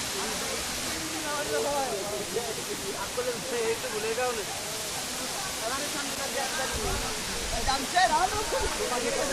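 The upper stream of Khoiyachora Waterfall in Mirsarai roars near its top tiers in a constant, broad rush of falling water, while people talk faintly underneath.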